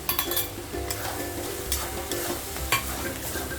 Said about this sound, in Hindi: ये डाल के अच्छी तरह भूनना है